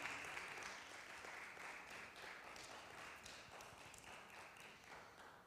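A church congregation at an evening seminar claps steadily, a quiet but sustained wash of many hands clapping from across the room, with no voices over it.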